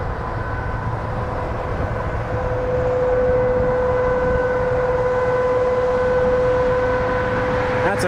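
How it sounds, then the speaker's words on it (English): A noisy work truck on an airport runway gives a loud, steady drone with a sustained whining tone, nearby and continuous, ending in a sharp clatter. "That's a noisy truck."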